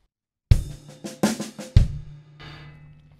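A drum kit plays a short groove with soft ghost notes and a bass drum on the last note: several sharp close hits in a quick pattern, followed by a ringing cymbal wash.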